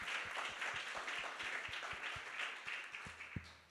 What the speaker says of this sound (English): please, can you give the Bezos Earth Fund a round of applause?